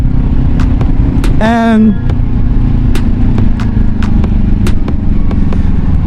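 Kawasaki Ninja 400 motorcycle ridden on a road in Florida: a loud, steady engine drone with wind rush and periodic sharp clicks, while someone briefly speaks over it.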